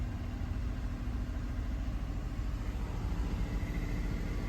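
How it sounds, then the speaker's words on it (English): A 3.5L Toyota V6 engine runs at a steady 1500 RPM, a continuous low hum with no change in pitch throughout. "I have it revving at 1500 RPMs."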